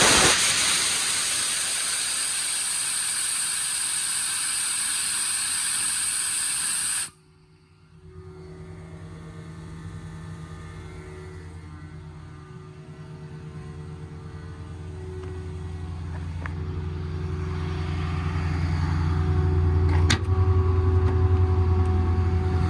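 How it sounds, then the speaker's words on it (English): A screw air compressor on a 2020 Ford F-550 service truck with a Stellar TMAX service bed: a loud, steady rushing hiss cuts off abruptly, then a lower drone with a steady hum slowly builds and grows louder. "It's a screw compressor."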